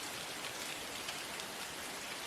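Steady rain falls in a dense, even hiss of countless drops, constant and close with no talk over it.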